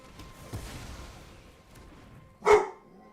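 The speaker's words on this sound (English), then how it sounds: "Stop barking." A single short dog bark bursts out near the end, loud and close, after a stretch of quiet background.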